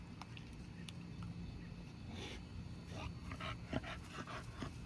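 Dogs pant and sniff nearby during dog sitting outdoors: steady soft panting with occasional sniffs and small whimpers, faint against light background noise, no talking.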